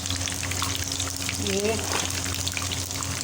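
Whole red chillies frying in hot oil as a tempering for masoor dal, giving a dense, even sizzle close by throughout, with a brief faint vocal sound partway in.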